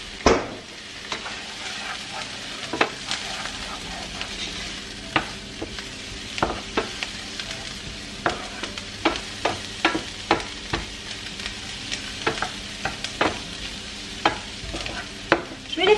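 Food sautés in butter in a pan with a constant sizzle, broken by frequent sharp clicks and scrapes of a utensil stirring at an uneven pace, close by and with no voices.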